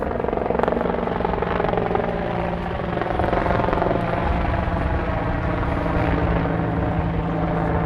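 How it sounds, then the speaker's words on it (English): A helicopter passes overhead in Washington, D.C., near the World War II Memorial, its loud, continuous rotor and engine drone filling the whole stretch without letup. "Oh, the dang helicopter."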